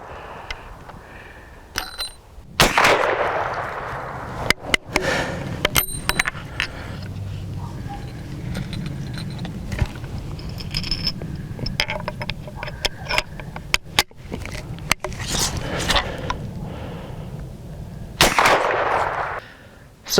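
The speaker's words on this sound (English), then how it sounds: "You can shoot another shot." Single loud shots from a Springfield 1873 Trapdoor rifle at an outdoor range, several spaced cracks over the span with quieter handling noise and gaps between them.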